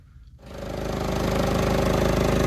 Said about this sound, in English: Let's turn off and on the ignition